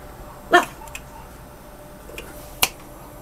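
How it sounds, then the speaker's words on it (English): A house dog gives two sharp barks about two seconds apart, a little distant, over a quiet room hum with no one speaking. "Sorry, my dog's barking."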